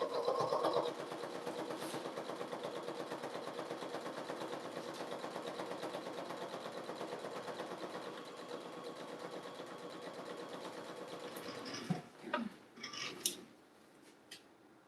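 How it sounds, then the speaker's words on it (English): A sewing machine stitches two pressed fabric strip sets together for a jelly roll rug, running as a steady fast mechanical whir with dense needle rhythm for about twelve seconds before stopping, followed by a few short handling clicks. "Now I'm gonna pick up 2 of them and sew together."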